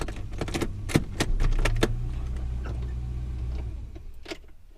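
A Holden HK Premier wagon gets a turn of the key: keys jangle and click sharply, followed by a brief low mechanical whirr from the starter area that fades away, all fairly quiet and close.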